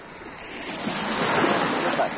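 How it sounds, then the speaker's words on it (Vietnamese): Calm, small sea waves washing onto a beach at Kỳ Xuân, Kỳ Anh, Hà Tĩnh, a soft continuous surf wash swelling slightly, with wind noise on the microphone. "Ở đây sóng êm, không to."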